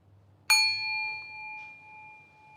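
A meditation bell struck once, ringing out with a bright clear tone that sustains and slowly fades, close and alone in a quiet room with no talk.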